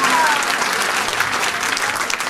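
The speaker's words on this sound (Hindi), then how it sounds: "एक बार और ताली बजाओ जोर से।" Dense, loud applause from a seated audience at a Bhagwat katha devotional gathering, with steady continuous clapping from a crowd and no break.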